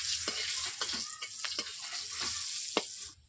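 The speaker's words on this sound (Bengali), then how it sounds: "তেলের মধ্যে লঙ্কা দিয়ে দিচ্ছি।" Green chillies hit hot oil in a heated wok (kadai), producing a loud, continuous hissing crackle with scattered sharp pops throughout; the sizzle cuts off abruptly at the end, and no one speaks.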